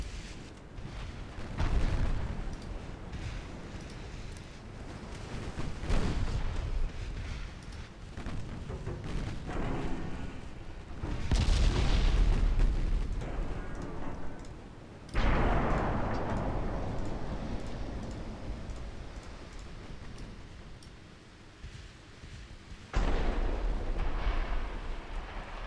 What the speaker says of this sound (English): Torpedo deck going off over there.